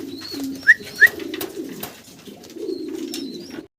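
Modena pigeons coo in a series of soft, low throaty calls close by, with two sharp brief squeaks near the start and a final longer coo before the sound cuts off.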